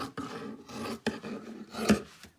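Scissors cut through fabric bag lining in a run of close, short snipping and rasping strokes, with no talk.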